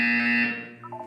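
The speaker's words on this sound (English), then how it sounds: "When you hear the buzzer, look down at the floor." Electronic buzzer tone from the video game Portal 2, a loud steady harmonic drone that holds for about half a second, then cuts off into faint short beeps.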